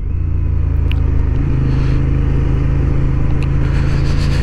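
Loud, steady engine drone of a 2023 Honda XL750 Transalp motorcycle on a race track, a constant close rumble held without clear rises in pitch.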